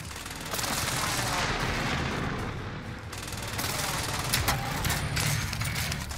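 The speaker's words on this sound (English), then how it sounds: "Might just airstrike myself" Call of Duty Vanguard Warzone airstrike: a dense, continuous barrage of booming explosions and rattling gunfire, loud and rolling throughout, with some faint game voices mixed in.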